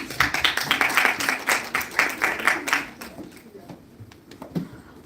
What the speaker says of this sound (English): Please give a round of applause, please.